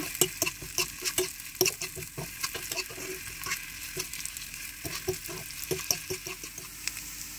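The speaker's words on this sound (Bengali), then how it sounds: "এখানে সসেসগুলো ভালোভাবে ভেজে নিতে হবে" Sausages frying in a pan give a soft crackle with frequent irregular pops and spatters, fairly quiet and close, with no talking.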